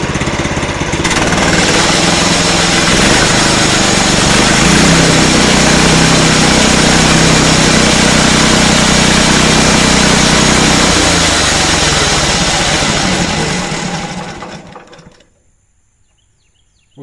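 Small gasoline engine on a Harbor Freight sawmill catches on a pull and runs loud and steady at a buzzing, mower-like pitch for about fourteen seconds, then cuts out abruptly into near silence.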